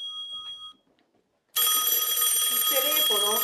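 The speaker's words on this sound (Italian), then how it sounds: "Il telefono." A telephone rings loudly and steadily after a brief quiet gap, following a fainter tonal sound, with no talk over it.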